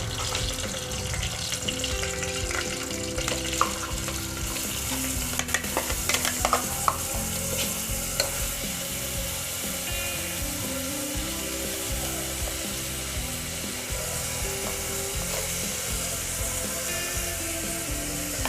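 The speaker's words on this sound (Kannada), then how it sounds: "ಸಣ್ಣದಾಗಿ ಹೆಚ್ಚಿಟ್ಟಿ ಹೆಚ್ಚಿ ಇಟ್ಕೊಂಡಿರುವಂಥ ಈರುಳ್ಳಿನ ಅದರೊಳಗಡೆ ಹಾಕಿ ಒಂದು ಸ್ವಲ್ಪ ಫ್ರೈ ಮಾಡೋಣ" Finely chopped onions sizzle in hot oil for a chicken bhuna masala, a steady, dense frying crackle with occasional stirring scrapes running throughout with faint background music beneath.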